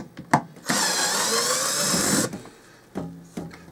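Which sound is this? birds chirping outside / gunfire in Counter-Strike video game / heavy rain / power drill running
power drill running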